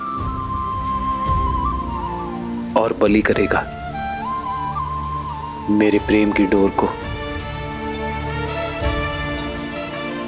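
Rain falling steadily as a soft continuous wash behind a dramatic Hindi dialogue scene from a Ramayan TV serial, with a music score and someone speaking over the downpour throughout.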